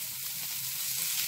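Sardines and chopped onions frying in hot oil, a continuous close, hissing sizzle with no speech.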